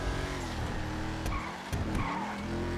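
Car tires skidding and squealing in Grand Theft Auto V, wavering screeches over engine noise, with a couple of sharp impacts midway, loud and close.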